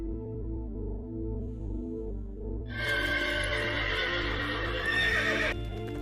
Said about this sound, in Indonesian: Terlihat pasukan berkuda sedang menginjak-injak Bimo yang telah dimasukkan ke dalam karung.